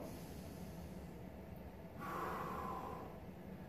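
A long, deep exhalation during a neck retraction exercise, with the breath swelling into a soft, breathy rush midway through the clip against a steady low background hiss; no one speaks.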